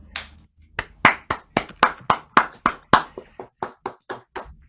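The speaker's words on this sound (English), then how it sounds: "we'll have a little applause for the speakers just to say hello" A few participants in an online meeting clap, mostly a single clear set of hands sounding about a dozen crisp, evenly spaced claps, close and dry, slowing and softening toward the end.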